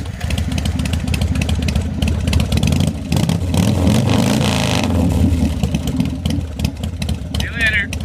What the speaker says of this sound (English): Let's go fire up that Harley.